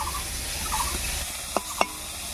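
Sliced bitter gourd fried over high heat, a steady sizzle with two sharp scrapes of a spatula against the pan near the end.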